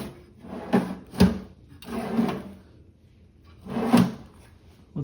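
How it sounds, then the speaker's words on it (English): A machinist's toolbox drawer slides back and forth on drawer slides, several close rolling, rumbling strokes with short sharp knocks as it stops, separated by quiet pauses. "Now I'm going to attach the drawer slides onto the drawer boxes"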